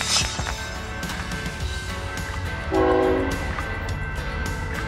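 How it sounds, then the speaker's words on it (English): A freight train rumbles past steadily with wheels on the rails, and a brief blast of its horn sounds partway through over the continuous rolling noise. "Freight train."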